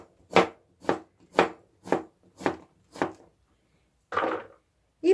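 Knife chopping zucchini into cubes on a cutting board, six steady crisp strokes about half a second apart, close and clear, followed by a brief rougher scrape.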